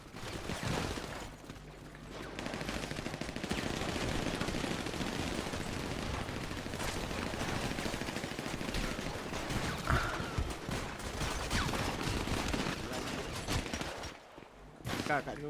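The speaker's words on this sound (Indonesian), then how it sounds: "Kok ada tembakan lagi?" Rapid gunfire in a roleplay video game, a long continuous crackle of shots under steady noise with voices talking over it, fading briefly near the end before resuming.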